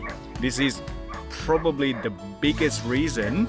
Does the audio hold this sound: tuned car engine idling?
no